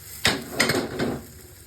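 Water poured into a hot pan of curry, giving three short splashing bursts with a sizzling hiss that fades between them, close up.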